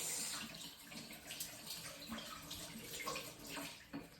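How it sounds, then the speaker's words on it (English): Running tap water splashing over hands being washed in a kitchen sink while cooking chicken breast, a steady close hiss of flowing water with small splashy bursts throughout, no talking. "But first I have to wash my hands because my hands is really dirty."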